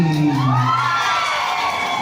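A large game-show studio crowd shouts and cheers together in a sustained, loud roar with rising whoops, steady for the whole stretch.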